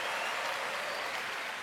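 A church congregation applauding at a sermon service, steady and dense clapping from many hands, even in loudness throughout and fairly distant, with no voices.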